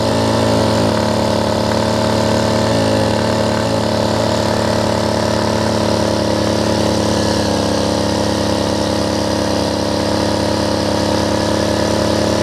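A Homelite ST275 string trimmer's small two-stroke engine idles steadily after a carburetor kit install, a loud, even, buzzing drone with a constant rattle that holds unchanged throughout with no talking.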